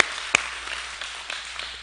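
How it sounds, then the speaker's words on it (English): An audience at a training event applauds to honor a police sergeant, a moderate, diffuse patter of clapping with one sharp nearby clap early on, fading slightly toward the end. "Let's give Sergeant Woodard another round of applause."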